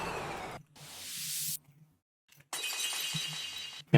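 A glass-shattering sound effect used in brostep and future bass music production, a bright hissing crash that swells and then cuts off sharply, followed by a second burst of breaking-glass noise after a short silence.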